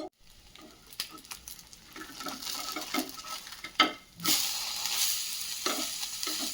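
A poha uttapam sizzles on a hot pan as it is flipped and cooked, producing a continuous crackling fry with intermittent scraping and stirring clicks and a brief louder rush near the end.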